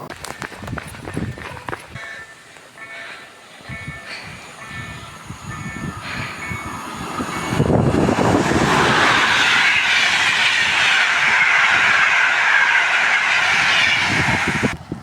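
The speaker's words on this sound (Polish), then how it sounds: "mam za zadanie nagrać 5 pociągów na dworcu" A train rolls through a railway station platform in Świniary, Poland, starting with faint clicks and a distant approach, then swelling after several seconds into a loud, steady close rumble and hiss of passing cars.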